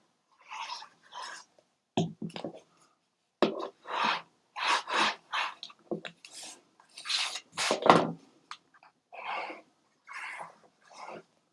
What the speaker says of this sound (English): use your bone folder to push up against,